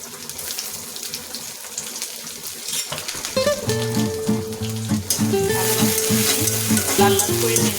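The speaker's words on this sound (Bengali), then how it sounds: "দিয়ে দিলাম এখানে রসুন কুচি, দিয়ে দিলাম এখানে পেঁয়াজ কুচি" Chopped garlic and onion frying in a pan, a bright steady sizzle with stirring, while music with a clear melody plays loudly over it from midway on.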